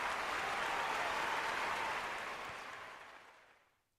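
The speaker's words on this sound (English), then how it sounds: "Give you an applause for that." Applause during a live college basketball stream of Auburn versus Kentucky, a dense, steady wash of clapping that holds loud for about two seconds and then gradually fades out to near silence.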